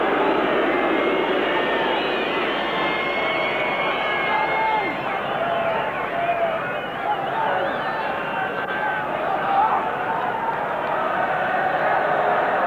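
A football stadium crowd of 50,000 at a 1990 World Cup qualifier between the Republic of Ireland and Spain, a constant roaring wash of cheering and chanting heard under a commentator's voice throughout.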